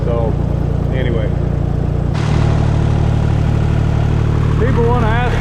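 A John Deere tractor, running without its grille, idles in a hay field with a steady low engine drone that shifts slightly in pitch partway through, while a voice talks over it.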